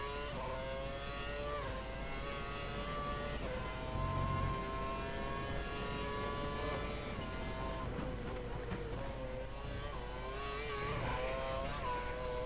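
Race car engine in the F1 2013 video game, an Audi custom team car on a fast lap, with a steady high-pitched whine that rises and shifts with gear changes, loud and continuous throughout with no talking.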